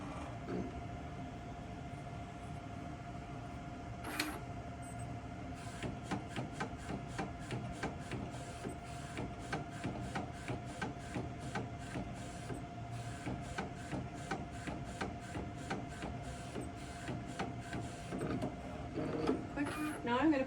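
An Eddie edible ink printer runs a print job, with a steady mechanical hum and a long series of rapid rhythmic clicks and ticks as the print head moves. The sound stays close and continuous, and a voice speaks over it.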